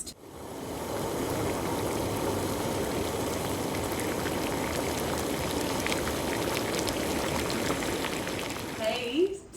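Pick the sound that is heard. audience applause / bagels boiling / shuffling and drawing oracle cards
bagels boiling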